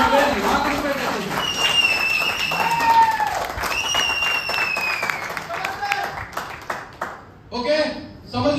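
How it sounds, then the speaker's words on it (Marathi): An audience at a network marketing company meeting applauds, a dense, sustained patter of clapping with voices and tonal sounds mixed in, fading out near the end. "जोरदार टाळ्या झाला पाहिजे."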